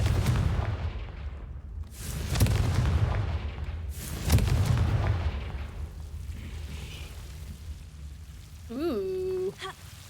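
Confringo blasting spells in Hogwarts Legacy go off as several loud booming explosions, each with a rumbling tail, followed by a brief chiming pickup sound near the end.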